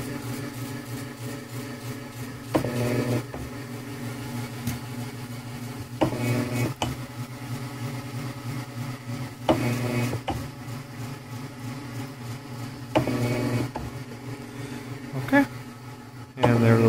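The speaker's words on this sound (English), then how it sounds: "so now we're ready to turn the machine on. And there she goes." A floor resurfacing polishing machine runs with a steady mid-pitched whirring drone throughout, broken by a few brief clattering bumps and scrapes; a voice occasionally talks over it.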